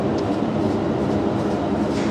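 A train standing in an aggregate siding on the Marston Vale line between Bletchley and Bedford gives off a steady, loud rumble with no breaks.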